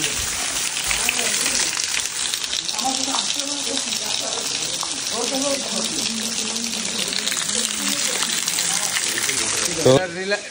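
Water falls from high up at Komlok Waterfalls in Sajek, a steady broadband rush that runs unbroken and fairly loud, with voices talking over it.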